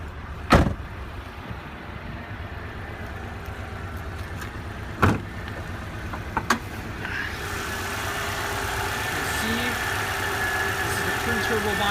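1999 Subaru Legacy B4 twin-turbo boxer engine idling steadily and fairly quietly, with a few sharp knocks or door thumps near the start.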